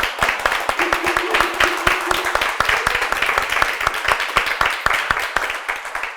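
A group claps steadily, many close, sharp hand claps layered into dense continuous applause with a faint voice or tone under it early on.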